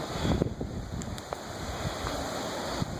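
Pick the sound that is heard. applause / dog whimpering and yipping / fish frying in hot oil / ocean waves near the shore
ocean waves near the shore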